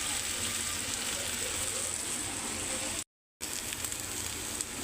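Meat and potatoes sizzling steadily in a hot pan while being stirred, a constant close hiss with faint scraping, cut by a short gap of silence.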